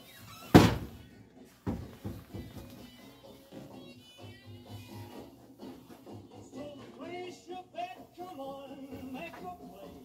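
A secret door to a laundry room thuds sharply once, then knocks a second time more softly. Quieter shuffling and voices follow.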